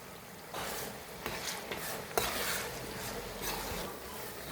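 Garlic and ginger sizzle in a pan with green chili, curry leaves, salt and turmeric, a steady soft frying hiss broken by a few scraping stirs and light clinks, close and unaccompanied by talk.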